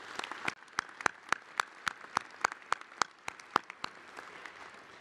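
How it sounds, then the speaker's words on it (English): Audience at a College of Liberal Arts and Sciences convocation ceremony applauding academic accomplishments, heard as a moderate, fairly distant burst of clapping with sharp, evenly spaced individual claps standing out above the softer crowd patter throughout. "Let's recognize these academic accomplishments with a round of applause."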